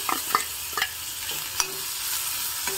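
Chopped cucumber sizzles steadily in a hot pan, with a few sharp clinks and scrapes of a spatula stirring through it; no one speaks.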